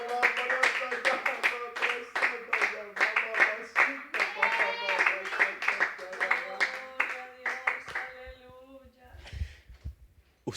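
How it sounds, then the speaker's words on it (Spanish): Rhythmic hand clapping in a steady beat runs under continuous singing or talking, then fades near the end. "¿y por qué el pastor está aplaudiendo?"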